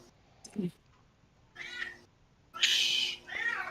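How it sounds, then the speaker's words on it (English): A cat meows for attention with several separate calls, one short and two longer drawn-out ones, fairly close, with people talking quietly in the room. "Whose cat just really wants attention right now?"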